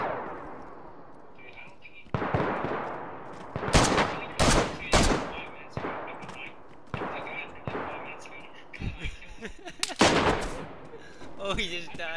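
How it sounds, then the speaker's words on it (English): Video game gunfire aimed at a building, several loud, sharp shots and short bursts cracking out irregularly, with faint voices murmuring between them. "He's shooting at the building."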